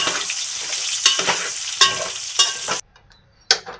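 Soya chunks sizzle in hot oil in a pan with bursts of crackling and stirring scrapes, close and fairly loud, then a brief near-silent pause and another burst.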